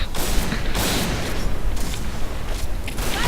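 Pump-action gun firing in the shooter game PointBlack: several heavy, booming blasts in irregular succession, loud and close over a noisy game background.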